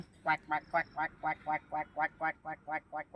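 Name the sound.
man imitating a duck's quack with his voice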